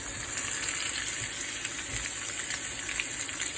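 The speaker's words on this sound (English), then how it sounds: "I'm going to sear the edges with the fat on it" A tomahawk steak finished sous vide sears in a hot pan with its fatty edges down, a constant hissing sizzle that stays even and moderately loud with no talk.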